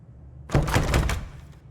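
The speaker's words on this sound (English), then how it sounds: "Door's locked from the other side." A locked door in a horror puzzle video game rattles and thuds for about half a second as someone tries the handle, a short, loud burst against a quiet low hum.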